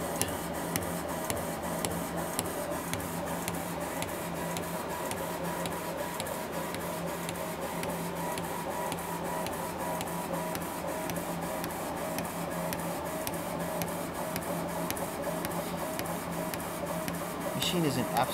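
A Laserpro 50 watt CO2 laser engraving machine runs steadily, giving off a constant mechanical hum with a fast, regular ticking pulse throughout, close and moderately loud with no talk over it.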